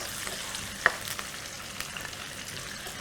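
Onions fry in a pan on a cooking show: a steady soft sizzle with scattered crackles and a spoon stirring and tapping, fairly close and without talk.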